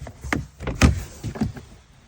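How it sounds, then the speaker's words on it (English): Door on a farm machine opening, a few scattered knocks and clunks with a brief mechanical creak, moderately loud and close with no talk. "door opens"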